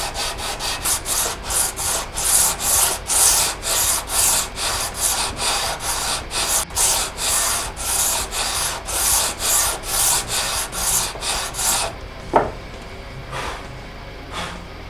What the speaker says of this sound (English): sanding block I made out of a piece of ash that was jointed, so it's nice and flat